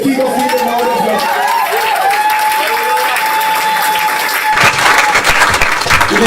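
A church congregation claps and cheers to acclaim Jesus during a sermon, with steady crowd applause throughout that swells louder near the end, voices mixed in.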